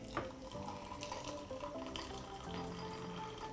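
Hot water is poured from a kettle into a tea cup holding a tea bag and two spoons of condensed milk, producing a steady splashing, filling stream that runs at close range for the whole stretch.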